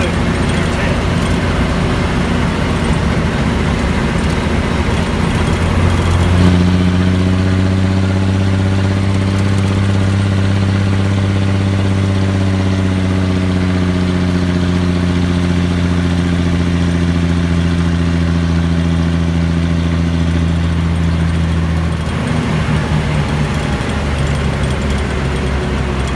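An M756A2 pipeline truck engine runs at a steady idle, a loud, even drone that deepens into a strong tonal hum through the middle before easing back to a rougher rumble.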